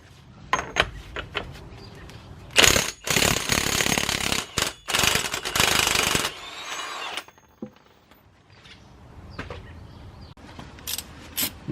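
Hub bearing bolts on a 2007 Chevy Impala being loosened with hand tools: bursts of fast ratchet clicking separated by pauses, with metallic clanks and scrapes close by.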